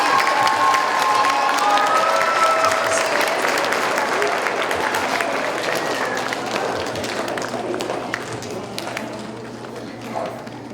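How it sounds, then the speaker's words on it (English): An audience at a keynote presentation gives a long round of applause with some cheering, a broad, sustained clatter of many hands that slowly thins out, with voices faintly audible beneath it. "Let's hear another round of applause for Dr."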